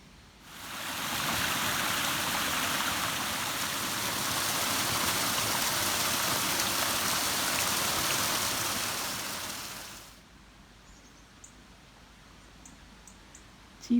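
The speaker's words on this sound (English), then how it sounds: "just hear the stream down below" Steady rushing wash of a stream flowing somewhere below in the Welsh countryside, a continuous broadband water noise for about ten seconds before dropping to a quiet background with faint ticks.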